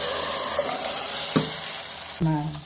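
Rice-flour cake batter stirred in a hot pan, a loud steady sizzle with two distinct scraping strokes of a spoon, the second firmer and longer.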